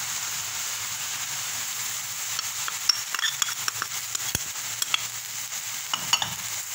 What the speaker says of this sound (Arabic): تنحركو وتنخليو الصدر ديال الدجاج هو الاخر، تنحركو العناصر كامله حتى تشرب لينا ديك العطريه مزيان